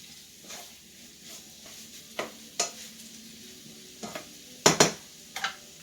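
Food browning in a pan for Italian arancini, with a low sizzle and a few sharp scrapes and clinks from stirring, the loudest near the end.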